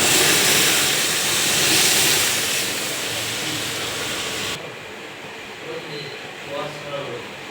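Potatoes and pointed gourd sizzle in hot oil in a pan, a steady loud hiss for several seconds that drops away sharply, leaving faint kitchen sounds under a voice.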